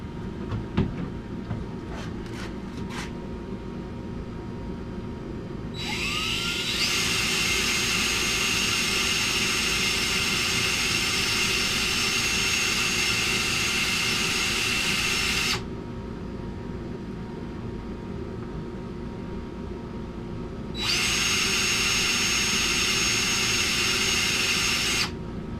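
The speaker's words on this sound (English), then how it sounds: "I think my drill bit's worn out." A DeWalt power drill with a worn bit grinds through material in two long steady whirring runs separated by a quiet pause, after a few faint clicks.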